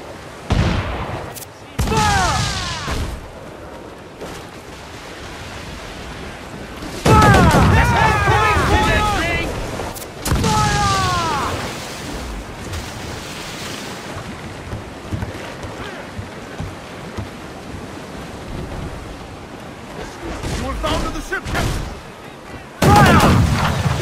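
Artillery and gunfire in a naval video game battle, with heavy booming blasts and whistling incoming rounds over roaring wind and water, loud and intermittent, while voices call out orders.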